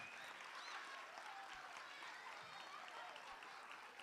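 Audience applause for a team at a third-grade school cantata, a steady, faint wash of clapping from a distant crowd with no pauses.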